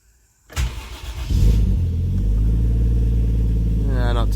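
A drift car engine cranks and fires after sitting for about two weeks, then settles into a loud, steady idle with a slight misfire.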